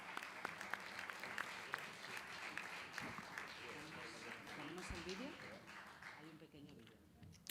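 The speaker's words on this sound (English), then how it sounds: "A big round of applause." Faint, distant applause from the audience at an RTVE press conference, continuous for several seconds with talking audible underneath.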